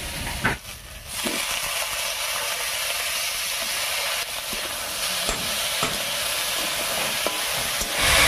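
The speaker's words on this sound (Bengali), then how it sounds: "এবার এর মধ্যে দেবো কেটে রাখা ডাঁটাগুলো" Cut vegetable stalks added to potatoes frying in spices, a steady close sizzle and hiss with occasional stirring scrapes and clicks throughout, no talk.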